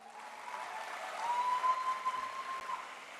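Audience applause at a Golkar party gathering, a steady broadband clatter of many hands that swells midway and holds, with a faint tone running underneath.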